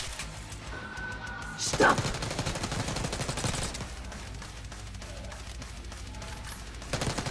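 Automatic gunfire in Call of Duty Black Ops 6, a burst of rapid shots with a sharp loud crack near the start and continued firing and combat noise under a game score.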